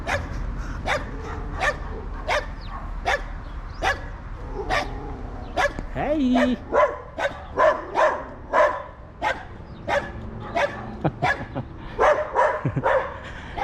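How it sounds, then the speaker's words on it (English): Several dogs bark repeatedly in a suburban street in Waterkloof, Pretoria, sharp overlapping barks and yips at moderate distance, with a brief spoken word from someone nearby. "Some dogs making a lot of noise down there."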